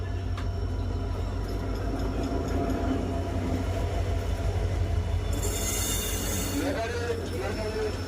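A train rumbles past a village market steadily with heavy low-end noise, a brief high metallic squeal of wheels rising midway, and faint voices underneath.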